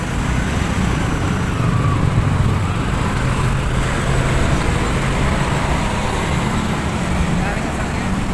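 Heavy road traffic with many vehicles passing, a loud continuous roar of engines and tyres, with people talking over it.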